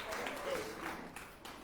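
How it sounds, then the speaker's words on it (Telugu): An audience at a Tiruppavai discourse claps for a boy: faint, soft scattered applause with a few distinct claps, heard at low level alongside murmuring voices. "ఓసారి చప్పట్లు కొట్టచ్చు మనవాడి కోసం."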